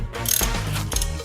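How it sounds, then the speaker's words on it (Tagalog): A 17 mm socket wrench ratcheting while a wheel is removed from a Yamaha Mio Sporty scooter, giving close mechanical clicks and clunks in a short, steady burst with no voices. "tatanggalin muna natin yung ating gulong mga pis. Ayan, gamit tayo ng 17 na socket."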